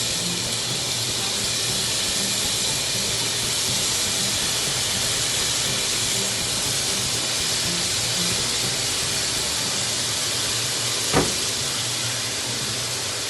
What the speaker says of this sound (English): You must hear that sizzle.